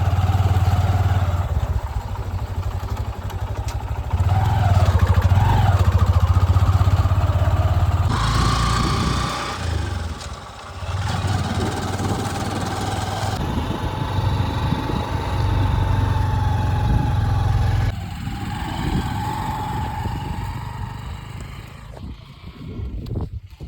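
A motorcycle engine runs steadily at a salt farm in the desert, a continuous close mid-pitched drone with rattly clatter and shifting wind-like noise.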